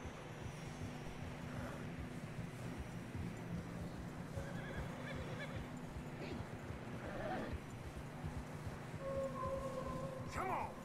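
Horses in Red Dead Redemption 2 give several whinnies and neighs over steady hoof plodding through fresh snow, with wind-like background sound running throughout.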